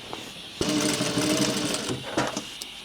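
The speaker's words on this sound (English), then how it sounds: "stitching the dart, and then we're going to sew the facing to the double knee" A sewing machine stitches a dart on dungarees, a steady close whirring run of about a second and a half, preceded and followed by quiet handling sounds.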